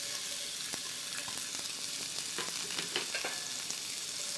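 White onions frying in a cast iron skillet, a dense, continuous crackling sizzle with scattered pops and faint stirring, close and without speech.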